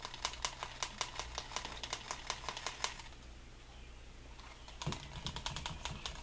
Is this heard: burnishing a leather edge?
yes